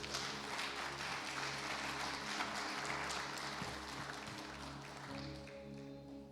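A church congregation applauding together, a continuous dense wash of clapping with a low steady hum beneath, fairly distant and even throughout.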